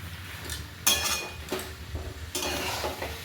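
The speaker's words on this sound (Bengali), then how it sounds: "এবার আলুটা আলুটাকেও বেশ ভালো করে মশলার সাথে কষে নেব" Potatoes stirred and fried with spice paste in a pan for Bengali aloo dum, with loud scraping strokes of a spoon against the pan and a steady sizzle beneath, close up and without talk.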